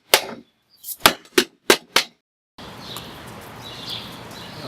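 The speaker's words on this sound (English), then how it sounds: "I've got a hammer that we're going to bang it out and flatten it out." A hammer bangs a piece of metal flat, sounding as about six sharp, loud, closely spaced impacts in an uneven rhythm, followed by a shift to steady outdoor ambience with faint birdsong.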